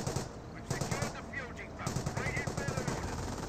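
Rapid machine-gun bursts rattle from a Company of Heroes World War II battle, the rounds stuttering in quick clusters under a commentator's continuous talk.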